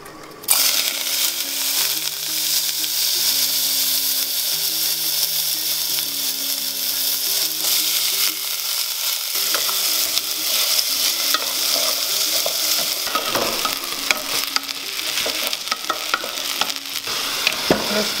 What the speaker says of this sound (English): Take out the rice and begin to put it in the oil.